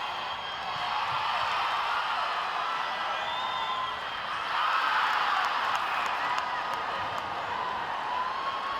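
Spectators at a Cook Islands v Botswana netball match keep up a steady roar of cheering, whoops and scattered clapping throughout, swelling slightly partway through, with a commentator talking over it.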